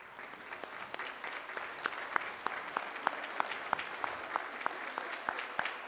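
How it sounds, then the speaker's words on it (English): Audience applauding mothers during a church service, a steady wash of clapping from a room of people with sharper individual claps standing out, moderately distant and even throughout. "Let's give them a round of applause,"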